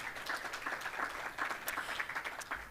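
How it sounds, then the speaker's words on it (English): Steady, fairly faint applause from the audience at a community college employee recognition and retirement ceremony, many hands clapping together across a room, with no one speaking over it. "Clap it up for yourselves as we go with the program."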